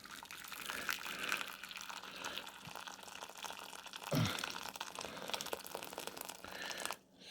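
Steaming hot water poured for a warm water bath to clean a 3D-printed resin part, heard as a continuous close splashing and running of water with a brief louder gush partway through, no voices.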